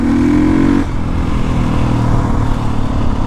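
A motorcycle engine runs loud and close, its pitch dropping from a higher rev to a steady idle-like drone.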